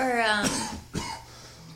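Talking gives way to a couple of short, sharp coughs nearby, followed by a brief pause.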